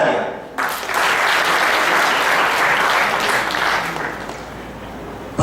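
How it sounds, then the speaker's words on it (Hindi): A large audience at a poetry recital breaks into loud, sustained applause that holds steady for several seconds before tapering slightly at the end. "जोरदार तालियां"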